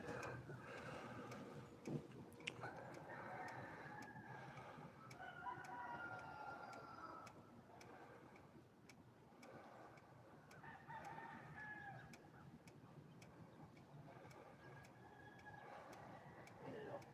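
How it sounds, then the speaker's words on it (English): Several roosters crow outdoors on a Thanksgiving morning, drawn-out calls repeating at a distance over a steady ticking and other bird sounds, with someone talking at times. "I hear a lot of roosters, but I also hear some of my crow buddies."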